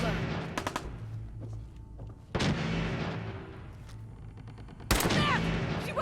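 Bursts of gunfire from a makeshift gun in Fallout 4, with a few sharp shots early on and heavier blasts near the middle and end, set over game background noise.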